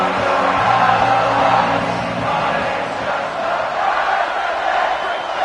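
A large stadium crowd at a Lingerie Football League game between UCLA and Michigan roars in a dense, continuous wash of cheering and shouting, loud and unbroken throughout, at the start of the fourth quarter.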